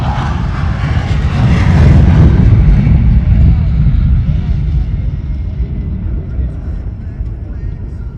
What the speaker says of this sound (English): Give it up for the Bayou Militia, Louisiana, with their F-15s.